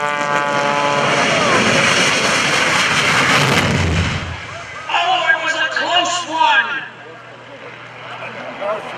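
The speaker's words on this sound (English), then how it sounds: "He's dropping the airplane down." A propeller stunt airplane roars past close and loud during an airshow, its engine drone peaking then cutting away, followed by someone talking excitedly.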